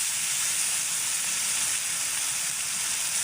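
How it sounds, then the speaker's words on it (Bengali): Meat dropped into a pan of fried spices, giving a loud, dense, continuous hiss of sizzling fat that stays even from start to finish, close up with no talk. "মশলা কষানো হয়ে গেছে, এখন হচ্ছে মাংসগুলো দিয়ে দেওয়া হলো।"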